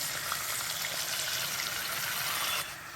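Ground ginger, cumin and green chili paste with chopped tomato sizzles in a hot pan, a dense close frying hiss holding steady, then dropping slightly near the end, with no talk.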